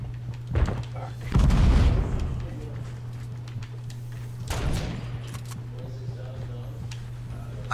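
Gunfire in the Fortnite battle royale video game, a few sharp bursts with a heavier low boom around the middle and another shot later, over a steady low hum, with people talking.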